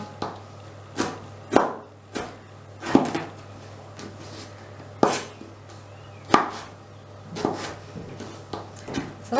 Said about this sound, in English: So that's our vegetables all chopped up and ready.